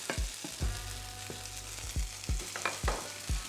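Sticky jasmine rice sizzles and fries in a hot pan while being stirred, a steady crackle broken by repeated scraping and tapping strokes of the utensil, close and fairly loud, with no talking.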